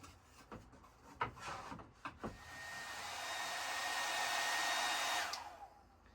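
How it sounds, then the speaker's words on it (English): A hairdryer blows on an antique cedar chest to loosen old glue, with a few close knocks and handling sounds first, then a steady, fairly loud airy whir that holds for several seconds before cutting off. "I have to use a hairdryer to try to remove this glue"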